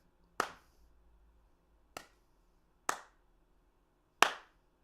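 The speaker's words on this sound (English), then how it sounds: "But I'm just going to clap here." Light hand claps, four single sharp claps spaced unevenly with near silence between, close and clear with no talk.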